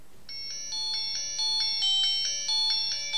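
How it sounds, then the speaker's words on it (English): A U8 smartwatch plays a ringtone preview: a bright electronic melody of repeated short tonal notes, fairly loud and alone over faint background hiss. "giving you a preview of the ringtones"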